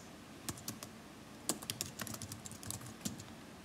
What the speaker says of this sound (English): Here's where you will type your class name, put the teacher last name in there